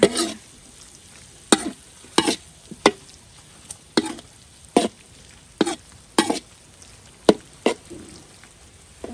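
Pork stirred with southern Thai curry paste in a pan: a spatula scrapes and clacks in irregular strokes over a soft, continuous sizzle, close and fairly loud.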